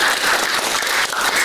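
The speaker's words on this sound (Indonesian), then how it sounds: "Kita tepuk tangan dulu untuk itu" Applause from an audience in a classroom or seminar, a dense steady wash of clapping that holds at an even level for a moment with no voices over it.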